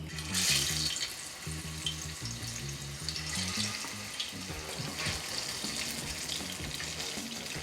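Onion sizzles in hot cooking oil for a traditional Ghanaian dish, a continuous bright hiss over a low, rhythmic background.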